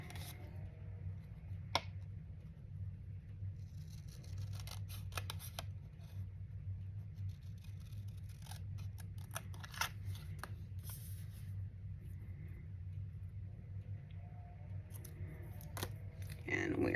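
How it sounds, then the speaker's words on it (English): Scissors snip through paper while a word is cut out for a Christmas junk journal, with sparse crisp cuts and paper rustling spread across a quiet background. "I'm going to cut out the word celebrate."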